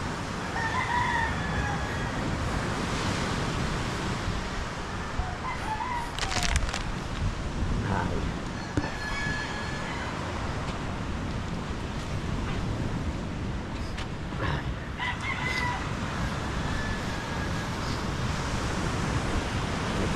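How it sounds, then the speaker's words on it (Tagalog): Steady roar of strong wind and crashing sea waves near boats fills the whole stretch, broadband and constant, with faint bird calls poking through now and then. "Yan sa sobrang lakas ng hangin, alon."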